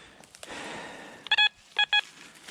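A metal detector gives a clean high tone: three short, bright, distinct beeps in quick succession, fairly loud over a quiet outdoor background with a soft rustle before them.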